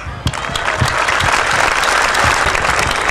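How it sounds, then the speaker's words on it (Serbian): Sustained applause from a carnival crowd for kindergarten children, dense steady clapping that swells in after a brief quiet start and continues evenly throughout. "Molim vas još jedan veliki aplauz za decu iz vrtića Sunčica."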